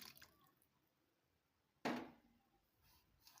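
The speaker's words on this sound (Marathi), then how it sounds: "आणि याच्यात मी थोडंसं पाणी वतून घेते" A small splash of water poured into a bowl of chilli powder and salt spice mix while cooking stuffed capsicum, one short wet burst standing out from a quiet kitchen, no talk.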